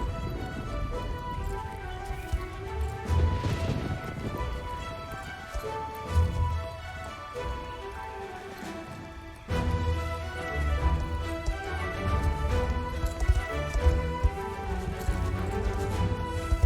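Galloping horse in the online game Star Stable, hooves clip-clopping steadily over game music, with occasional whinnies and no talking.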